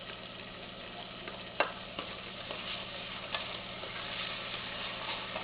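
Chopped ginger, garlic and green chilies for chole fry quietly in a pan with a soft, steady sizzle and occasional light clicks of stirring.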